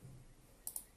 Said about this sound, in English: I actually clicked enter, I didn't mean to